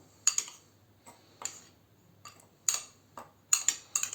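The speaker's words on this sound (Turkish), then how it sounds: "Öncelikle bunları bir karıştıralım." A spoon stirring a cocoa face mask mixture in a bowl, with light, irregular clinks and taps against the side, close and quiet with pauses between strokes, and no talking.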